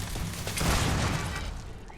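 An automated turret firing in Starfield, a dense, loud burst of rapid gunfire that rises to a peak and then tapers over two seconds.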